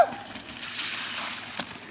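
A vehicle fords Wilson Creek at a crossing, giving a brief, moderately loud rush of splashing and sloshing water that swells midway and ends with a short splatter, with faint voices nearby.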